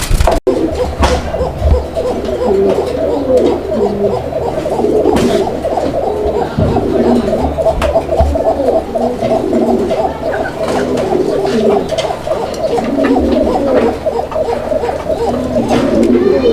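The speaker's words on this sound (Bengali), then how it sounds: "কোকার যে ডাক হয় আমি ডাকটা আপনাদেরকে এখান থেকে দেখানোর চেষ্টা করলাম" Continuous cooing of Koka pigeons, soft repeated low hoots overlapping in a steady chorus, fairly close, with faint background noise.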